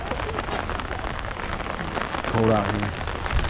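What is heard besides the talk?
rain falling in Guatape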